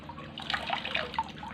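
Water runs from an ordinary tap modified into a float valve for a water tank, a steady close splashing trickle with brief drip-like accents, heard alone without talk.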